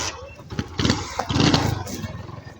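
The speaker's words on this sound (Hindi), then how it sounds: "अपनी बाइक थोड़ी-सी आगे ले जाना" A motorcycle engine catches and revs up close, its rough, pulsing bursts building louder as the bike pulls away, with some talk mixed in.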